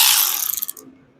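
A socket wrench ratchets a 10 mm bolt on a Honda EU3000 generator, a quick run of close, crisp clicks fading out within about a second.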